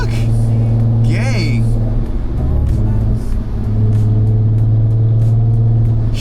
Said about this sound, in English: it's almost like I fixed my oil leak and then the exhaust sounded worse